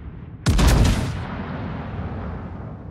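Thunderous battleship main-gun salvo from a tier 9 USS Georgia in World of Warships, a single loud broadband blast with a deep booming rumble that lingers and fades into a steady low background roar.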